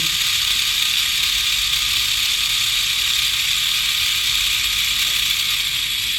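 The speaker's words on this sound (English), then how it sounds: "which turns on the motors independently" Small Arduino-controlled electric motors whir steadily and close by, a constant bright mechanical hiss with a faint ratcheting edge and no pause across the stretch.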